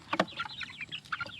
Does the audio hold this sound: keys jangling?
no